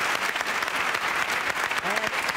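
A studio audience of a Quran recitation TV show applauds in a steady, dense wash of clapping, close and even, with a voice briefly heard near the end.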